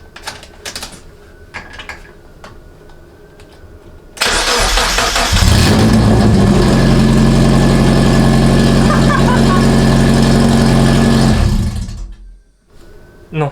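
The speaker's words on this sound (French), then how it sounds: "on va quand même essayer un démarrage sans échappement" A Mazda MX5 with no exhaust fitted, tuned for ethanol, cranks and fires at about four seconds. It settles into a loud, raw, steady idle that runs close up for around seven seconds, then cuts off abruptly.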